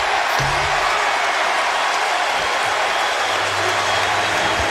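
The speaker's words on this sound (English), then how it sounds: "Melvin Eli hearing it from the crowd as the foul is picked up by Fabricio" Basketball arena crowd reacting loudly as a foul is called in a 2008 Spurs vs Hornets playoff game, a dense, sustained roar of voices with scattered claps filling the whole moment.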